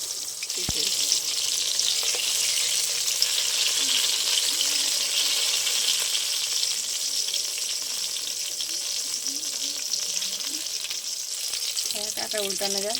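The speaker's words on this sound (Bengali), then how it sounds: "এবার তেলে দিয়ে ভেজে নেব।" Salt-and-turmeric eggplant slices frying in oil in a wok, giving a loud steady sizzle throughout with faint stirring noises, and a short stretch of speech toward the end.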